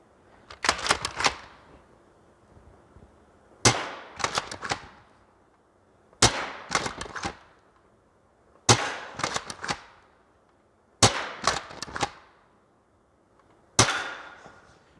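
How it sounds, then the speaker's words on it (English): An Adventure Force Nexus Pro dart blaster fires six times at a steady pace of about one shot every two and a half seconds. Each shot is a loud, close burst of sharp snaps and clacks that fades quickly, with no talking. "I just want to fire off a few of these and just see how accurate this sight is."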